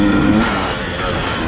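Dirt bike engine humming steadily while riding through the badlands, a close, continuous motor drone with slight variation over a brief moment.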